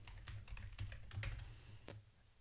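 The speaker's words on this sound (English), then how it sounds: "I'll go ahead and type that in." A VPN password being typed on a computer keyboard comes through as a quick burst of close, soft key taps with a low hum underneath.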